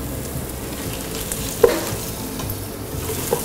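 Pork frying with onions in a pot for cabbage soup sizzles steadily and hisses up close. A couple of sharp clacks from stirring break through, and no one speaks.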